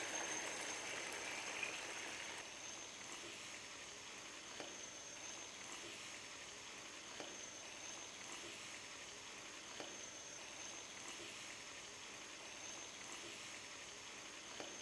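Rice and chana pulao simmer in water in a pot, giving a faint, steady bubbling hiss with tiny sporadic pops. It stays quiet and continuous, with no voices.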